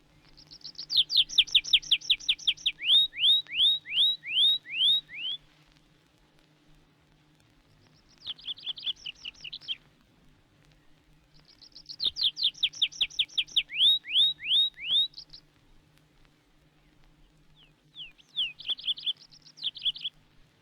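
A tree pipit sings during its display flight in woodland: bright, rapidly repeated trilling phrases come in bursts separated by short pauses, clear and fairly close, over a faint low hum.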